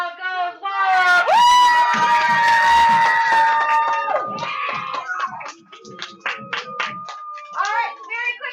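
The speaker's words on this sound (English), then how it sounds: "And the crowd goes wild." A cheering crowd sound effect erupts with a rising whoop and sustained roar of voices, then breaks into scattered clapping and shouts that fade and flare over several seconds.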